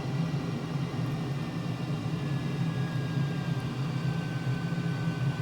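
A STOVL jet airplane flies at low speed in Microsoft Flight Simulator, heard as a steady, loud engine roar with a constant low hum and broadband rush throughout, no talking.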